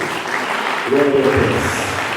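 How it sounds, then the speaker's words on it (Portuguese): A church congregation at a Friday night service claps steadily, with voices and a sustained tone carrying over the applause. "Se coloca de pé igual o Senhor com as palmas bem forte para Jesus."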